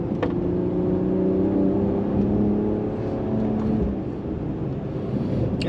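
A Mercedes-Benz CLS 53 AMG drives a twisty road, its engine note a steady, loud drone from inside the car that swells and eases slightly as it moves through the bends, with no talking.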